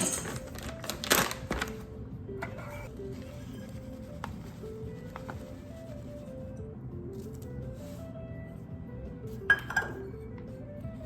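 Almond flour goes into a glass mixing bowl for an almond cake, with a few sharp glass clinks near the start and again near the end over a quiet, low background.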